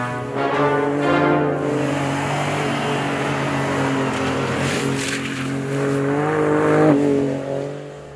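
A 2017 Ford F-150 Raptor drifts with its engine revving hard and steadily, a loud close-up roar holding throughout with a rising surge near the end and tires faintly scrubbing.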